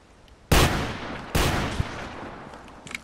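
Two loud gunshots from a hunting rifle in the Hunting Simulator video game, sharp cracks about a second apart, each trailing off in a rolling echo, followed by faint small knocks.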